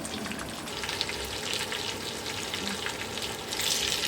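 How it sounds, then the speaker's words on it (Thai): Steady sizzling of foraged mushrooms frying in a pan, a continuous crackling hiss that swells slightly louder near the end. "ใส่กระทะหน่อยทอดขึ้นเลย"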